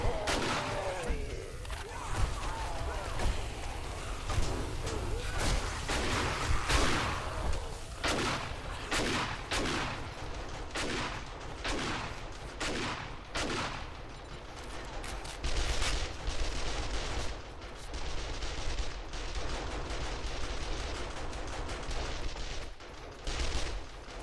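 Automated turrets in 7 Days to Die firing rapid bursts of gunshots, loud sustained volleys with a dense rumbling backdrop, some brief pauses between bursts.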